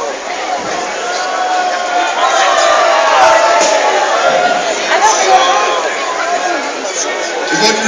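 At a wing-eating contest during the Grill Stock festival, a lively crowd cheers and shouts encouragement to the competitors, a loud, sustained roar of voices with whoops rising and falling throughout.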